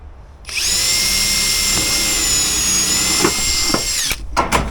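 A power tool whines steadily for about three and a half seconds while a rivet is set into a simple spreader, then cuts off, followed by a few sharp clicks.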